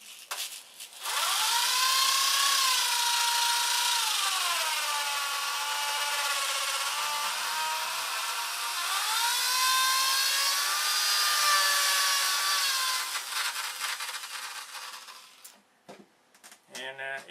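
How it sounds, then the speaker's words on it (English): A steady, loud whirring drill spins a tool handle to sand it, running continuously for about fourteen seconds with a rising and falling pitch, then cuts out into a few clattering knocks. "it only takes a couple of seconds in the drill"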